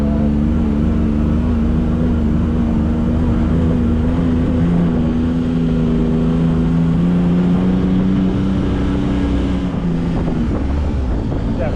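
A Can-Am Maverick side-by-side's engine drones and builds steadily in sport mode, loud and close from inside the cab, mixed with strong wind buffeting.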